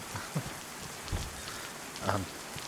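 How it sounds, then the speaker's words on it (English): Steady rain in the video game DayZ on PS5 patters on surfaces, with a few soft low thumps scattered through it. "It's raining outside."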